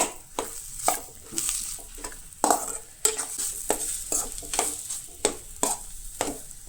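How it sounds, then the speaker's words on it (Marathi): Potato vegetable filling for vada pav is stirred in a pan, a spoon scraping and clacking in a steady rhythm with faint sizzling, close up, no talk. "सो हे सगळे न्हय हांगसर मिक्स करून घेवंक जाय"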